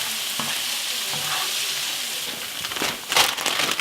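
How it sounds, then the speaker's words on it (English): Vegetables sautéing in a hot pan with crushed red pepper flakes added, giving a steady close sizzle with stirring scrapes, which grow louder and more crackly near the end. "we'll saute these until they're just fragrant"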